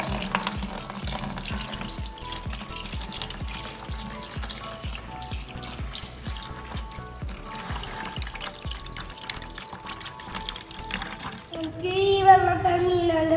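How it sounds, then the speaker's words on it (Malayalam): Water pumped out of a home aquarium pours into a bucket with a continuous splashing flow, under background music and a voice, growing louder in the final seconds. "വെള്ളം വന്ന് തുടങ്ങിയിട്ടുണ്ട്"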